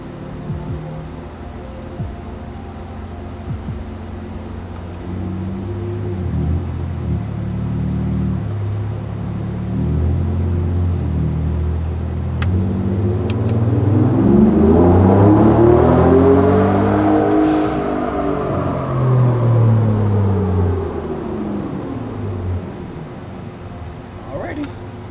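A 2018 Ford Raptor truck, tuned to around 500 horsepower, makes a dyno pull: the engine climbs from a steady drone into a loud, sweeping rev that peaks and then winds back down, with a steady rumble underneath.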